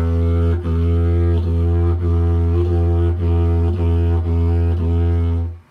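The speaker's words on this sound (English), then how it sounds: "You can articulate with ta or ka." A didgeridoo holds a loud, low drone broken by regular tongued attacks, about seven evenly spaced rhythmic pulses riding on the continuous buzz before it stops.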